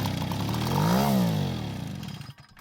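A vintage Echo two-stroke leaf blower engine runs for a couple of seconds, its buzzing tone rising and then falling as it revs, fairly faint, before cutting out abruptly.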